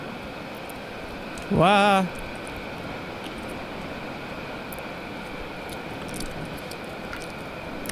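A steady drone from a player-built airplane engine flying in the video game Scrap Mechanics, continuous and even throughout, briefly interrupted by a short vocal exclamation.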